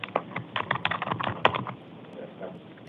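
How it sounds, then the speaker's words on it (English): Hard, rapid typing on a computer keyboard at a county courthouse, a steady clatter of firm keystrokes that eases off toward the end, with faint voices in the background. "She's typing mighty hard."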